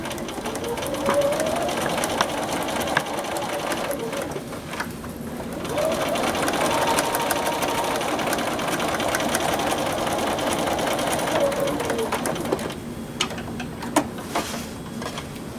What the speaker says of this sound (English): now I'm going to sew right along that line